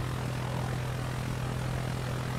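A Fokker Dr.I World War I triplane in Roblox Aeronautica: a loud, steady propeller-engine drone holds without a break, close and continuous, with no voices.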